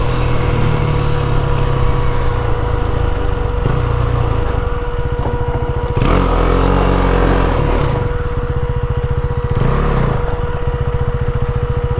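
Continuous loud engine drone from a KTM Duke 390 motorcycle ridden on dirt, steady throughout with a couple of brief swells in revs, close and dominant.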